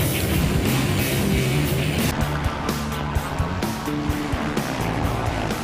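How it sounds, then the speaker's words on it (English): Spring Creek runs beside the motocross track at Millville during a 2010 AMA 450 race, its steady broadband rush of flowing water mixed with droning motorcycle engines throughout, with no talk. "Well, a river runs through it, or at least a creek."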